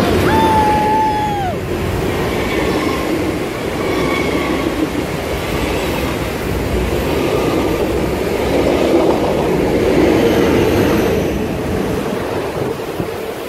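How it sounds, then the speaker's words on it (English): A train passes on the rails, starting with a brief high wheel squeal, then a sustained roaring rumble of cars rolling by that swells and fades over several seconds. "Ah, the train coming!"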